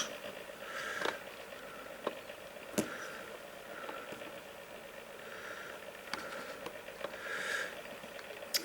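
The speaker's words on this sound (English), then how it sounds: "The electric blower from my computer is damaged, make noise like old air conditioning" A damaged electric blower in a computer drones quietly with a wavering, uneven hum that rises and falls in soft surges, punctuated by occasional faint clicks and ticks.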